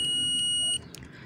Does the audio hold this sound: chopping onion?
no